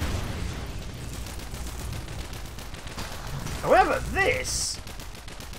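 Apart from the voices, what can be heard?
high explosive rounds firing in video game Mechs V Kaijus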